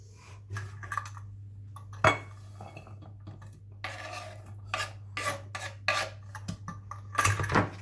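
Onions being chopped very finely on a board, with sharp knife taps in irregular clusters up close, mixed with light clinks and scraping, no talking.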